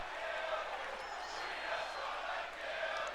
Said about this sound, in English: Well, this crowd seems to have it in here for AJ. They are chanting for Rhea.